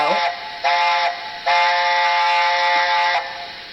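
A model locomotive sound decoder in a Dapol A4 steam locomotive blows its whistle three times in a row, two short toots and then one long sustained blast, loud and clear with no talking.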